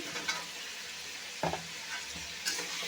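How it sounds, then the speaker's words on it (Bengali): Drumstick vegetables stirred and fried in a pan for a vegetarian curry give a steady close sizzle, broken by a few sharp spatula scrapes and clinks against the pan. "একসাথে মিশিয়ে একটু ভাজা ভাজা করে নিচ্ছি"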